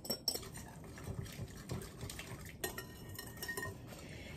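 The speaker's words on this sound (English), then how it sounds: "I'm just using my whisk and masher because I don't really feel like the cleanup." A whisk and masher mix baba ganoush with tahini, garlic and lemon juice in a bowl, giving soft, steady clinks and wet stirring scrapes close by.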